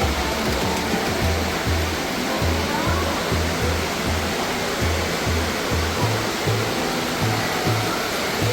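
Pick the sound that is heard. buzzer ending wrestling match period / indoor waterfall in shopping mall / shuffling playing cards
indoor waterfall in shopping mall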